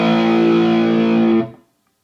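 An electric guitar through a distortion pedal holds one heavily saturated, buzzing chord for about a second and a half, then cuts off sharply into silence.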